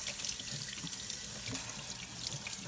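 Canned pigeon peas rinsed under a running kitchen tap: a steady, close rush of water spattering into a sink, continuous for the whole stretch with no voices.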